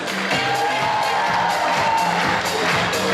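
A large hall audience at a student spring festival gala concert cheering and applauding as results are announced, a steady loud wash of clapping, whoops and crowd noise.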